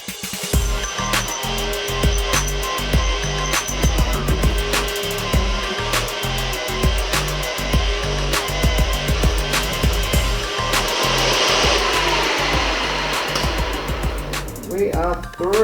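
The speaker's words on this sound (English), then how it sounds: "After checking that I have bored the correct size circumference for the supercharger shaft" Boring a pulley for a supercharger shaft on a home-built car setup, heard as a steady loud machining drone with dense cutting and rubbing noise running throughout, a brief change near the end.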